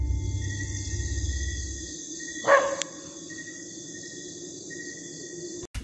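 A single short dog bark rings out at night in an eco park, somewhat distant, over a steady bed of chirping crickets and insects, with no one speaking.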